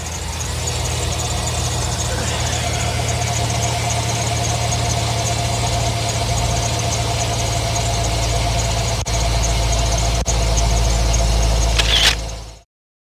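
The engine of a 2005 Chevrolet Silverado pickup runs at a steady idle, a loud, close, continuous low rumble with a faint squeal, cutting off abruptly near the end.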